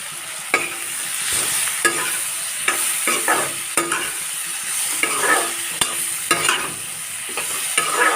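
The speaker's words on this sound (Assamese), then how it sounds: "এয়া ভাজি হৈছে" Vegetables sizzle in a pan while a utensil stirs and scrapes them in regular strokes, the clacks and hiss close and clear with no talking.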